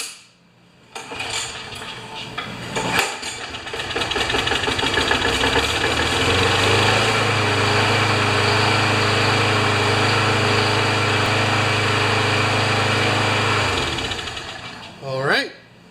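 An older Craftsman lawn mower with a Briggs & Stratton engine, hard to start, catches after a pull and runs loud and steady with a rough, knocking idle for about twelve seconds before cutting out, with a short sound at the very end.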